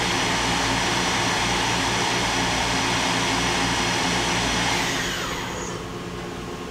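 Mori Seiki NLX-2500SY multi-axis CNC turning center, new 2013, with its spindle running at 3,500 RPM: a loud, steady, dense whirring roar with a tonal hum that begins to wind down and soften near the end.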